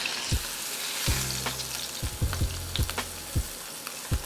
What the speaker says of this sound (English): place it on top of your steaks, and kind of press down, forcing it to make surface area contact with the skillet